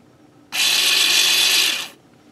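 An electronic parking brake caliper motor, wired with reversed polarity and pushing its piston out, whirs loudly and steadily for about a second and a half alone before cutting off and winding down.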